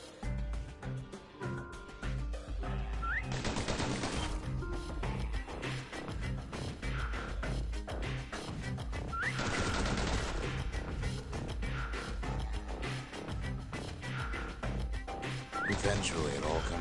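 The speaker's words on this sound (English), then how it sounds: "The slingers like to edge each other out using customized pistols." Pistol gunfire in the video game Bastion rings out as repeated sharp shots over game music and effects, while a narrator speaks throughout.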